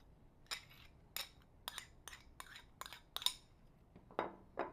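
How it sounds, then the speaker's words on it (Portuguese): Mozzarella, parmesan, requeijão and seasonings being mixed together in a bowl for ravioli filling, heard as a series of about eight sharp utensil clinks and scrapes against the bowl at an irregular rhythm, close and moderately loud, with no talk. "Vamos começar misturando todos os queijos junto."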